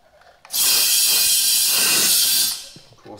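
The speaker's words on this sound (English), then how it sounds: "Let's PPE on and put some air in this." A loud, steady hiss of compressed air inflating a drift kart tyre rushes in for about two seconds, starting abruptly and cutting off, with faint clatter before and after.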